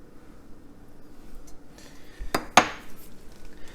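A knife or scissors snips the string off a burrito fresh from an air fryer, making two sharp clinks of metal against a plate, close and brief over quiet kitchen background.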